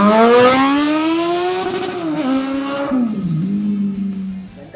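A Honda CBR400RR or Suzuki Bandit 650 with a very loud exhaust revs up and holds a high note, then the pitch falls and settles into a lower, steady drone.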